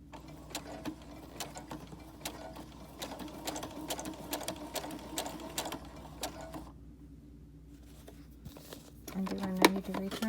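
A sewing machine stitches a three-layer fabric pocket mask in quick, even mechanical ticking, with a short pause before the whirring resumes and a faint voice speaks over it.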